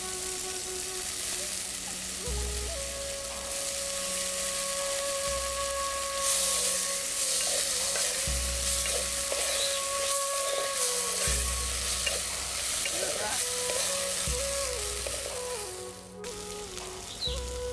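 Moong dal fries in a pan with a steady sizzle while a spoon stirs it in repeated scraping strokes, all close and moderately loud, with no talking.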